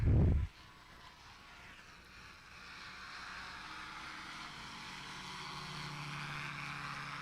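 A Revo light aircraft's propeller engine drones steadily at a distance after a brief loud thump at the start, its hum slowly building over the rest of the clip at an outdoor fly-in.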